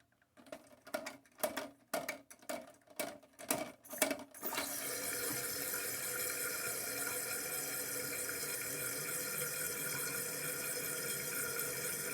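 Water hisses steadily into a toilet tank through its fill valve after a series of rhythmic clunks, the filling sound continuous and close.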